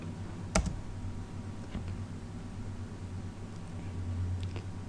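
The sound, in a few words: typing on a computer keyboard, pressing Enter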